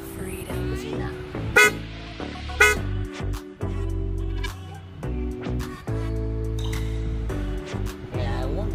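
Car horns toot in short, loud bursts of varying pitch, with a person talking over and between the honks.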